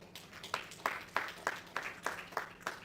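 An audience at a public-health induction ceremony in Sierra Leone claps in a steady, even rhythm, with regular claps about a third of a second apart in a moderately quiet room.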